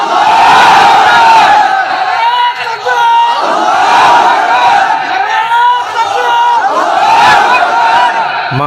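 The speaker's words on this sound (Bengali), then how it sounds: "একজনে এক জায়গা থেকে একটু তাকবীর দেন তো জোরে সরে" A large crowd at an Islamic sermon shouts the takbir chant in loud, massed, roaring waves that swell and dip about every three seconds, with many overlapping voices.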